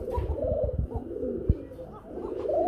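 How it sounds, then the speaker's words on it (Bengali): Arabian coca pigeons cooing in a pair, soft repeated low coos close by, with some handling bumps and a brief knock in between. "আর অ্যারাবিয়ান কুকা রয়েছে বন্ধুরা, খুবই সুন্দর ডাকে মাশাআল্লাহ ডাক"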